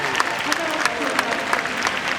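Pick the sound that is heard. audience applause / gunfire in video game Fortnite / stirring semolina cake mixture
audience applause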